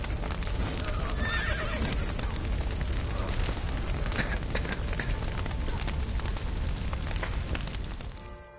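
Horses whinny and stamp amid a crackling, roaring fire in a burning building in The Witcher 3, a dense, continuous wash of flames and hoof clatter, with shrill neighs cutting through before everything fades.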